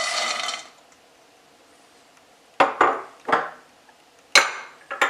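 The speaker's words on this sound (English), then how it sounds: "I'm going to add the cinnamon sticks and the star anise and the cashews" Cinnamon sticks, star anise and cashews dropped into a pan over medium-low heat for cashew brittle: a few sharp clattering knocks and scrapes, separated by a quiet pause, close by.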